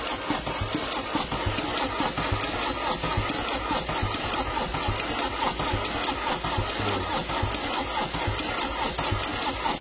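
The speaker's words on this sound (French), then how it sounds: "J'ai pas branché les injecteurs exprès, comme ça je vais pouvoir faire tourner le moteur." A Peugeot 207 HDI 16V diesel with 545,000 km, its injectors unplugged, cranks on the starter in a steady, loud, rhythmic churn that never fires, continuous for the whole stretch.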